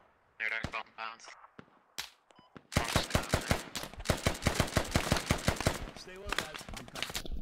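Rapid bursts of gunfire crack through a squad firefight in a military shooter game, sharp repeated shots coming fast and loud, with brief radio-style voices talking before the shooting picks up.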